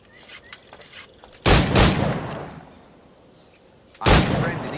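Two flintlock pistol shots ring out in Assassin's Creed IV Black Flag, each a sharp, loud, booming crack with a long echoing tail, the second following about two and a half seconds after the first.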